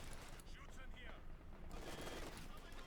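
Machine gun fire in the World War II strategy game Company of Heroes 2, a crewed German machine gun firing rapid bursts amid battle noise, faint and distant.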